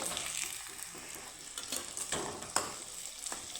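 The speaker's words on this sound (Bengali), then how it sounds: "আমি একটু এভাবে ভেজে নিচ্ছি" Dough balls fry in a pan, giving a steady soft sizzle with faint stirring clicks and scrapes, fairly quiet and without any voices.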